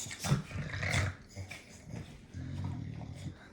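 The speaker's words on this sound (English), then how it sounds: "My dogs are playing." Dogs growl and grumble in short playful bursts, fairly close, with scuffling between the rough vocalizations.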